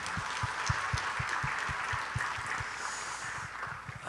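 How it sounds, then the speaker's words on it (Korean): Church congregation applauding during a Sunday worship service, a steady patter of many hands with distinct claps standing out, moderately loud throughout. "우리 박수하겠습니다"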